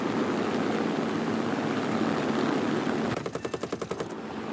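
Machine gun bursts fired at a Heinkel bomber in War Thunder, a quick rhythmic string of shots near the end following a steady roar of aircraft engine noise.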